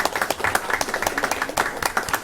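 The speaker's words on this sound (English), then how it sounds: "I think you need to be applauded" Applause for students at a school board meeting: a dense burst of many hands clapping, steady and fairly close throughout.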